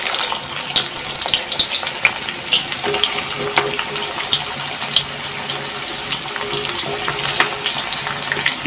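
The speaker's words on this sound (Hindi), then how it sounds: "मैं एक कढ़ाई में तेल लिया है, इसमें मैं एक प्याज डालूँगी।" Onion frying in hot oil in a kadai gives a loud, continuous sizzle full of sharp crackles and pops, close up and steady throughout, with no voices.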